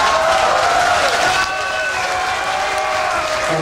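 Loud, sustained applause from a concert audience at Lucerna Music Bar in Prague, dense clapping with crowd noise that holds steady throughout and eases slightly midway.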